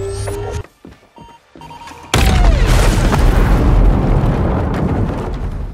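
A bomb robot explodes in a film, a sudden heavy boom after a few clicks and mechanical beeps, followed by a long loud rumbling roar that slowly fades.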